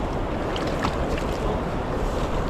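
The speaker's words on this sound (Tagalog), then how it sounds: "Lakas ng agos eh." Strong river current rushing around rocks near a tilapia fishing spot, a dense, loud, continuous roar of water that holds steady without a break and nearly fills the whole sound, with no voices.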